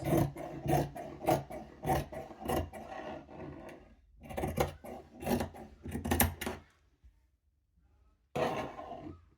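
Scissors cut a dart out of fabric for a princess-dart bustier in a close, rhythmic series of snipping, rasping strokes, with a pause before a last short burst.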